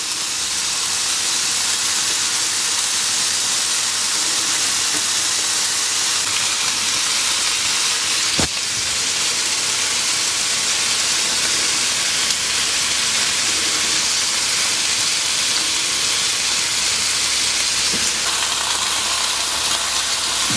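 Onions sizzle in a hot pan with vegetables for a fillet stir-fry, a continuous bright crackling hiss that stays steady and close, with a couple of sharp pops.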